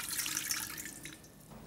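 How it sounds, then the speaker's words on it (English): Water pours into a mixing bowl as the first ingredient for Madeira cake batter, a steady close splashing trickle that eases off near the end, with no talk. "The first ingredient we're going to add is the water."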